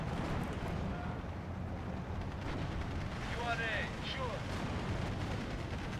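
Aircraft bombs explode in the Steel Division 2 strategy game as a dense, continuous rumble of heavy blasts and booming detonations, with no clear gaps between them.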